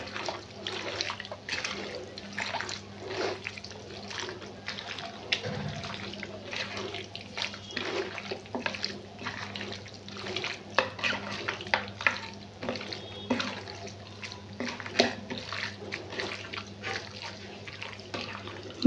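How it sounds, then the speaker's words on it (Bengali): Chicken being mixed by hand with a chili powder marinade, giving soft, wet squelching and sloshing with constant small splats and slaps, fairly quiet and steady throughout. "এবার এটা ভালো করে আমি মেখে নেব।"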